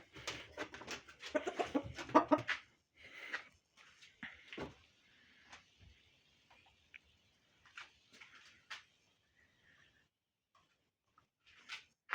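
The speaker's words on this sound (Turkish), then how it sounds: "İşte bu tavuğumuz, genç tavuğumuz." A young hen clucks in short, scattered bursts against a quiet background, close by, with soft knocks and rustles between calls.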